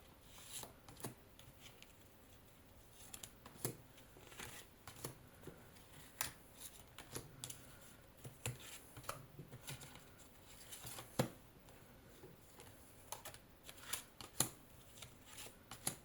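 Tarot cards being shuffled and drawn, soft irregular riffling and sliding taps close by, quiet and continuous with no talking.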